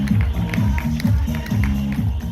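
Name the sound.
loud applause for the guests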